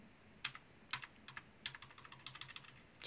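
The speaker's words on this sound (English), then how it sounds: "let's use control and the right arrow key on our keyboard" Computer keyboard keys pressed during 3D animation software work, a quick run of sharp clicks with a few louder taps, close and fairly quiet, no voices.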